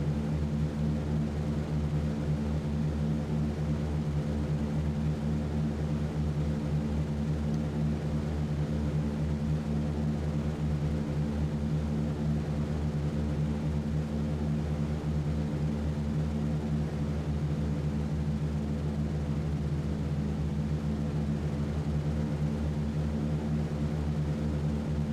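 Multiple piston engines of a B-17 bomber roar steadily at takeoff power in a flight video game, a dense, constant low drone with broadband rushing noise, loud and unbroken throughout with no voices.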